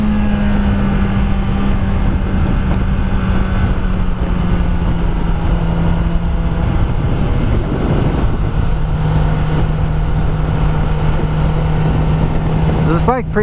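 A Kawasaki ZX10R 1000cc sport bike ridden in second gear, a loud continuous engine drone mixed with wind rush from the rider's position, pitch holding steady, then dropping and settling.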